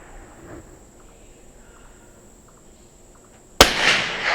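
A single sharp .22 rifle shot cracks out loud and close after a quiet outdoor lull filled with faint insect chirping, then a brief noisy echo trails off.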